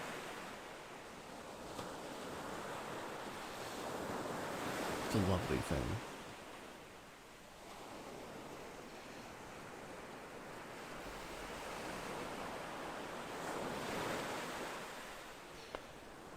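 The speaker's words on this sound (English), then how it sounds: "you're just hearing the back and forth of the ocean" Ocean waves wash back and forth on a warm beach as a steady, broad roar with gentle swells, heard from close by while someone speaks briefly over the surf.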